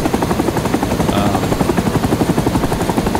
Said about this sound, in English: it's also a huge helicopter